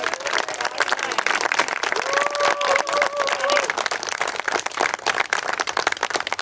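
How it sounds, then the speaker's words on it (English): Wedding guests applaud the bride in a steady, dense round of clapping that runs the full length, with some voices mixed in and a brief sung or called tone partway through. "How about a huge round of applause for the beautiful bride?"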